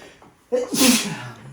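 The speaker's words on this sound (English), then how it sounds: "I think I'm gonna sneeze." A single sharp sneeze with a quick breath in, close and loud, followed by a short trailing exhale.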